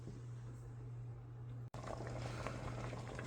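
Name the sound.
ham alfredo pasta sauce bubbling in a pot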